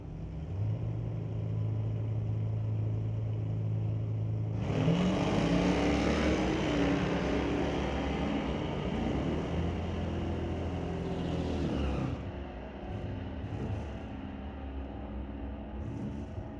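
A Nissan 280ZX and another car launching on a drag strip at Mission Raceway Park during NHRA Division 6 ET Finals, a low idling rumble jumping to a loud roaring run that stays steady, then drops away, with no talk.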